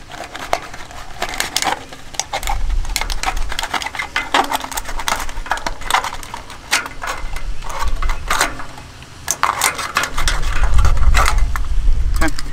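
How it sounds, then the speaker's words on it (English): Rough cut through a thin aluminum can with a razor blade or knife while making an ultralight alcohol stove, giving close, irregular scraping, crunching and clicking of the blade working around the metal, growing louder near the end. "you can either use the razor blade that you had before or a knife just to make the rough cut"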